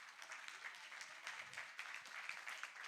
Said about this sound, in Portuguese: Você pode aplaudir ao Senhor pela essa palavra?